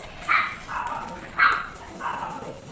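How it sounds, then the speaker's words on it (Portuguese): Dogs bark indoors, a few separate moderately loud barks spaced roughly every half second to second, with some yipping quality and light background noise. "Podem latir bastante, que vocês cansarem, eu continuo gravando."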